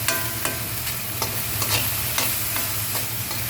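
Ground meat (giniling) sautéing in a pan with a steady sizzle, broken by periodic scraping stirs of a spatula, close and fairly loud with no talk.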